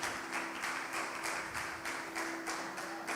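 A church congregation applauding, steady dense clapping with a rhythmic pulse, continuous and fairly distant, with no talking over it.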